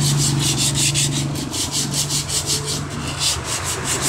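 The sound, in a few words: sandpaper sanding rusty steel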